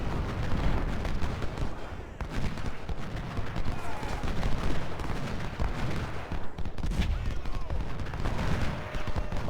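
Artillery and musket fire in the Civil War strategy game Ultimate General: Civil War, a continuous rumbling barrage of booms and crackling volleys, loud and sustained throughout with no pauses.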